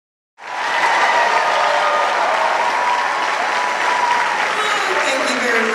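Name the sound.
audience applause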